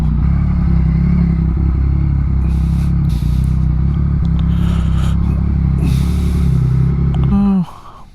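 A Yamaha MT-09 motorcycle rolling over gravel, its engine a loud steady rumble close by with crunching, clattering stones beneath it, ending in a quick drop as the engine note falls away.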